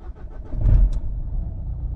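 A Jaguar car's engine cranks and catches after misfuelling, with an injector fault, then settles into a low, uneven idle, heard close and moderately loud.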